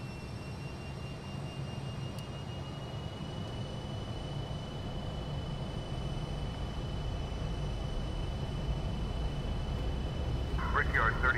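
Fokker F28 jet engines spool up for takeoff in the MSFS 2024 flight simulator, a steady whining roar with thin high tones that swells slightly louder toward the end.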